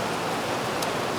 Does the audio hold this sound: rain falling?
yes